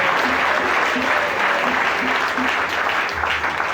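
Steady, loud applause from a church worship service congregation fills the whole stretch, with faint voices underneath.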